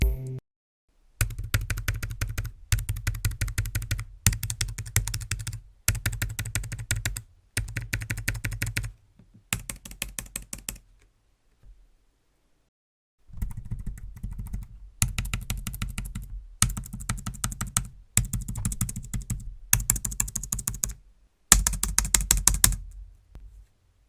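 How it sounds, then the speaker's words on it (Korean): Quick, light typing on a flat, laptop-style folding Bluetooth keyboard, a Britz BA-MDK36, comes in several bursts of rapid soft clicks separated by brief silences, close and clear. "키보드의 느낌은 노트북 키보드와 같은 그런 느낌이었습니다. 누르는 느낌이 납작했고 소음도 그 정도였습니다."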